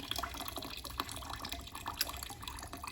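Water runs steadily through a stream table model of sediment at a higher flow of three quarters of a cup, moving faster and carrying more sediment. The trickle and splash hold at an even level, with scattered small drips and no talk.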